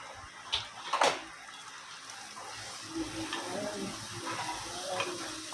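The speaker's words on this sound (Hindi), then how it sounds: "अच्छे से 5 मिनट इसको भुनेंगे" Masoor dal roasts in a pan, a faint dry sizzle with a couple of sharp scraping stirs near the start and softer stirring strokes later.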